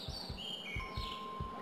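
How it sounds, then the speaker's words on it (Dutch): Birds chirp in the video game Among the Sleep, thin high tweets and whistles layered over a soft repeating low thump, faint and fairly distant. "Ik hoor meer vogels fluiten en zo."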